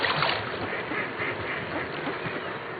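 Ducks squabble noisily on a lake at dawn, a dense and continuous chorus of quacking and splashing that is loud and close throughout, with no voices.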